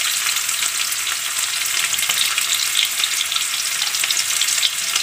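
Onion sautés in hot oil in a pan after garlic for a chicken chop suey. A dense, even sizzle crackles close and unbroken for several seconds, with a faint stir knock partway through and no voices.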